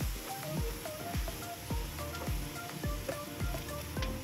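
Filling for puto pao being sautéed and stirred in a pan, a steady close sizzle of frying with repeated scraping strokes of a spatula about every half second, no voices.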